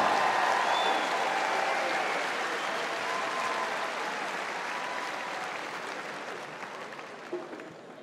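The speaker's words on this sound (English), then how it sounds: "Please give him a round of applause" Sustained crowd applause for a Ukrainian athlete at a strongman power stairs finale, a broad, even roar of clapping that slowly fades.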